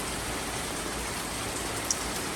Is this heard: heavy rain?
yes